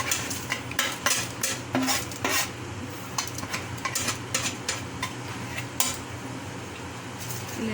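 Crushed herbal ingredients being stirred into oil in a pot for homemade hair oil, with repeated scraping and clinking of a spoon against the pot over a faint sizzle.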